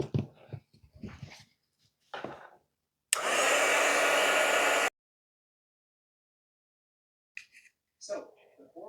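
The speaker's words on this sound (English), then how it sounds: "Grab the heat gun real quick, dry the bottom so I can set it down." A heat gun blasts air to dry the bottom of a paper mache hot air balloon ornament, a steady loud roar lasting about two seconds between bursts of nearby talk.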